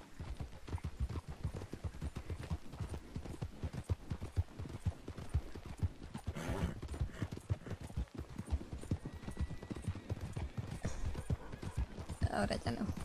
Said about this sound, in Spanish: Estoy viendo un caballo a galope entrando a Saint-Denis.